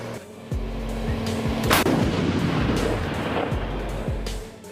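CAESAR 155mm self-propelled howitzer firing, several deep booming shots in an uneven run over a constant loud rumble, with one sharp crack standing out near the middle and no voices.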